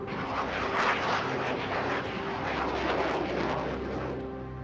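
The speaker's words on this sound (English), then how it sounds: "Lieutenant Colonel Wilfred de Brouwer, ordered ground command to scramble a pair of F-16 fighter jets armed with missiles." A pair of F-16 fighter jets flying, a steady loud roar of jet engines that stays broad and constant, then eases slightly toward the end.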